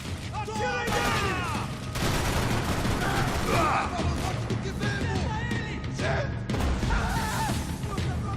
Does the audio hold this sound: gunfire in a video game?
yes